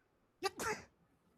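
A single sharp sneeze, close and fairly loud, bursting out in two quick parts over a brief sharp inhale, then quiet room tone.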